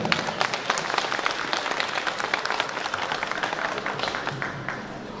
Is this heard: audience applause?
yes